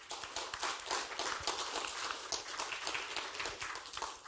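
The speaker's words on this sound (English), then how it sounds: "Can we have a round of applause for everybody in the community who makes the Gala what it is?" A large gala audience applauds in a sustained round of dense, continuous clapping that stays loud and steady throughout, with no speech over it.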